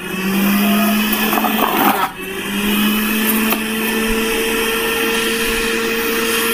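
A Havells Rigo 2 mixer juicer grinder runs with a loud, steady motor whine that dips briefly and then resumes at a constant pitch, close to the listener.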